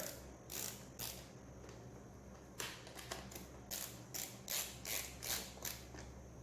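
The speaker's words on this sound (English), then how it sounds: "I'm going to be tightening up all these terminals now" A ratchet clicks in short repeated bursts while tightening terminals on Nissan Leaf battery modules for an off-grid solar battery bank, quiet and close over a low steady background hum.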